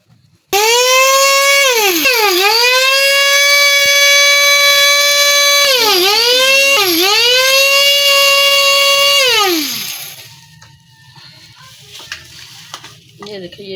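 An electric mixer grinder whirs loudly with a steady motor whine, grinding cumin and fenugreek seeds; the pitch sags and recovers several times as the load shifts, then the motor winds down and stops, leaving quiet room noise.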